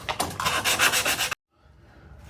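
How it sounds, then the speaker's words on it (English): Close, steady scratchy rubbing of sandpaper being worked by hand over old metal grass clippers, a rapid back-and-forth rasp for over a second that stops abruptly, leaving faint background noise. "I did some hand sanding"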